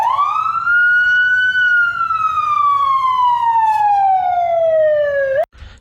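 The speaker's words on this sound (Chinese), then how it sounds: "这个警笛呢，我们现在来预览一下" A police car siren sound effect wails loud and alone, one long tone that rises and then slowly falls before cutting off abruptly.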